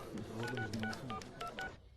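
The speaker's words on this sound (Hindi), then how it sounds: "एक फोन कर लूं?" A telephone being dialed to place a call in a Hindi action film scene. About nine short beeping keypad tones play in a quick, uneven sequence, faint and close, with no talking.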